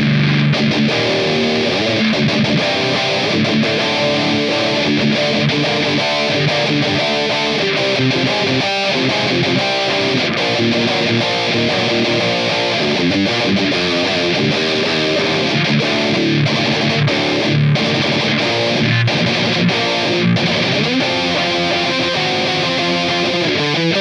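Electric guitar played through a DOD Supra Distortion pedal, producing a loud, dense, continuous distorted tone with shifting chords and notes over the whole stretch.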